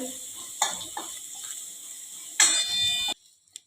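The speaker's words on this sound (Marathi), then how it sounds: "ही फोडणी आपल्याला एखाद व चांगली परतून घ्यायची आहे" Spices and asafoetida crackle and sizzle in hot oil for a dahi kadhi tempering, with sharp bursts of spitting as items hit the pan and a stirring scrape, then the sizzle cuts off.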